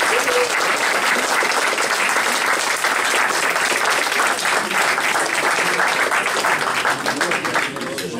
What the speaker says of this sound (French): Applaudissements à présent